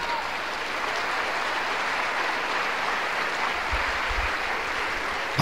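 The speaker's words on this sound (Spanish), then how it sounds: "Un aplauso." A church congregation applauds a preacher in steady, sustained clapping that fills the whole stretch at an even level, with no talking over it.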